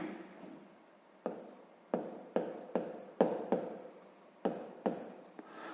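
Pen or chalk writing out a sixth-grade math division solution: a series of about nine sharp strokes and scratches, each with a short tail, spaced irregularly against a quiet background.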